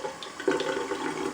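Tap water running into a bathroom sink as it fills, a steady close splashing rush lasting the whole brief moment, with a slight swell partway through and no talking.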